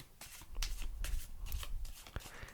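A deck of cards being shuffled repeatedly, with quick riffling bursts and soft flutters in a steady rhythm, close and fairly quiet.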